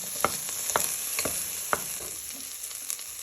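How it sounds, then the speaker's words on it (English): Carrot tossed into onion and garlic frying in a pan, a steady close sizzle broken by several sharp stirring scrapes at irregular intervals. "But first we're just tossing in our carrot into our onion and garlic, maybe for a minute or two."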